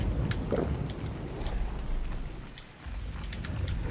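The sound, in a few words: rain in the video game ARK: Survival Ascended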